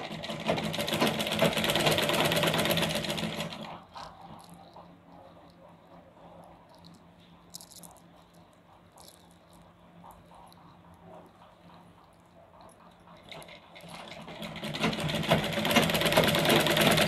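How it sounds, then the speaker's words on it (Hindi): A sewing machine stitching a choli cut blouse, running in two bursts of fast, even needle clatter at the start and end with a quiet stretch of faint handling noise between them. "हम इस पर डबल मशीन चलाएंगे।"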